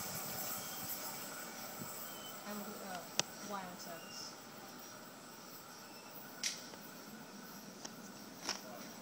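A Sydney Trains passenger train rolls past Denistone station at a distance with steady rumbling and faint wheel clicks, while a voice speaks quietly over it.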